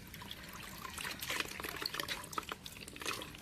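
Tap water running and splashing into a container, a steady, faint trickle with small bright splashes throughout.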